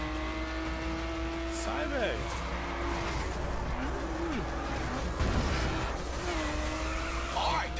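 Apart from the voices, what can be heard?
car drifting with tire squeal in the video game The Crew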